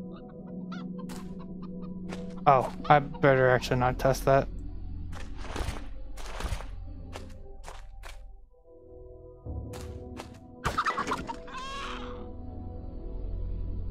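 A chicken in the game Arx Fatalis gives a series of clucks and squawks, loud and close, broken up by bursts of someone talking over the game.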